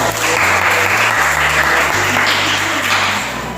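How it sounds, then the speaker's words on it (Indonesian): Classmates in a classroom burst into sustained, loud clapping after a group presentation, the applause holding steady throughout before tapering slightly at the close. "Ya, silakan tepuk tangan buat."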